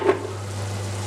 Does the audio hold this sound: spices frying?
yes